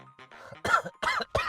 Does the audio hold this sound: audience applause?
no